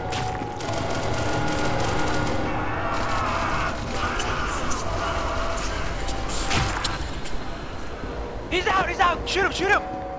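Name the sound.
gunfire in an SCP video game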